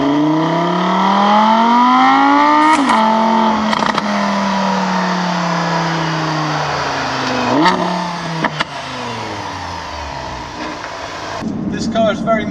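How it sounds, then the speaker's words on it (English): Audi R8 V10 Plus engine revs and accelerates loudly from inside the car, pitch rising through several gears with sharp shift drops, and brief talking near the end. "So let's get back to more of those engine sounds, which just sound unbelievable."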